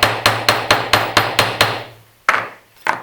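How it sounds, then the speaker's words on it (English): Hammer strikes on a rivet setter while setting a rivet in a leather dog collar: seven rapid, evenly spaced sharp taps, then two more after a short pause, close and loud with no talk. "we take our domed end of the rivet setter, plonk that on here, give it a good tap"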